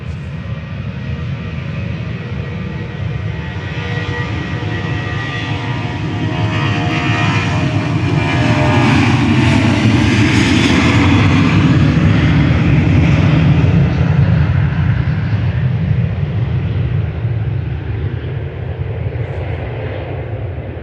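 Ryanair airliner departing Manchester Airport, a loud jet roar that swells to a peak midway through about twenty seconds and then slowly recedes, heard alone without voices.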